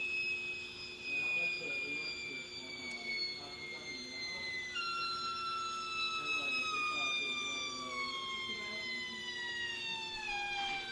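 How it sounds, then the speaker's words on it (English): A Rotork Skilmatic Si3 electro-hydraulic actuator spring-closing an Adams 10-inch triple offset valve after electrical power is cut, giving a steady whining, descending mechanical tone that runs for about eleven seconds, with a voice heard faintly behind it. "As soon as you lose electrical power, the spring takes over and shuts the valve."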